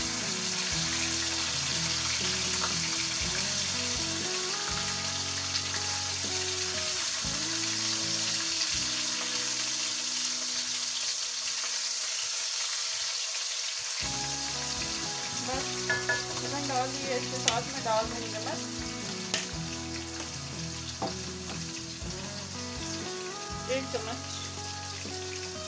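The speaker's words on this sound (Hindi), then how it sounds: "चिकन डाल के ये ध्यान रखना है कि इसको कवर नहीं करना, इसे हमें फ्राई करना है।" Chicken and vegetables frying uncovered in a pan, a steady sizzle throughout under background music, with scattered stirring clatters in the second half.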